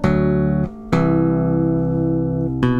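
Bass guitar tapping a short melodic lick, sustained tapped notes with a couple of sharp attacks and a short gap, played close and alone without talk.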